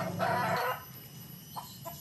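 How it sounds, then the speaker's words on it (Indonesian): Chicken clucking and squawking near a cage, a loud burst of calls followed by a few short fainter clucks against a quiet outdoor background. "Ada ayam masuk ke kurungan nih ya."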